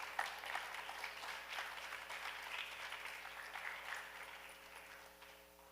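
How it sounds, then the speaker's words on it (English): Audience applause at a schools tourism quiz ceremony as a speaker walks to the stage, steady faint clapping that slowly fades toward the end, with a low electrical hum underneath. "Please give her a round of applause as she makes her way to the stage."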